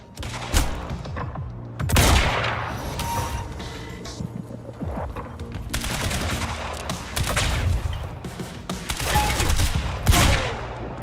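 Pistol fire in the video game Quantum Break, with several sharp, loud shots at irregular intervals, each leaving a short decaying tail, mixed with clanking mechanical effects and no talk.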